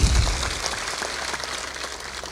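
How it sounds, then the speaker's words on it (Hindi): An audience at a spiritual discourse claps together in a dense, steady patter of applause with no voices over it. "थोड़ा जोर से ताली बजाए करो।"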